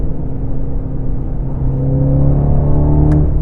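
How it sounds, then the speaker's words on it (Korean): A BMW X2 M35i SUV in sport transmission mode gives a steady, loud exhaust drone that swells slightly as it pulls, with a brief high tick near the end and no voices. "배기 사운드도 변했고요."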